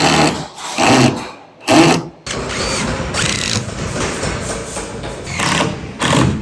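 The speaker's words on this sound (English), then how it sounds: "going to throw a screw in it" A power drill driving a screw whirs in short bursts, then runs in a longer continuous grinding stretch, close and fairly loud.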